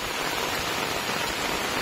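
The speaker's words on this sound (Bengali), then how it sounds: "আর এখন হঠাৎ করে বৃষ্টি নেমে পড়েছে।" Heavy rain pours steadily over a village on a hot afternoon, a dense, even hiss with no breaks and no voices.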